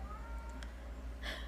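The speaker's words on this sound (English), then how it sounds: "I don't know if you can hear my kitty." A pet cat gives a couple of faint, short meows, with a clearer cry near the end, against a quiet indoor hum.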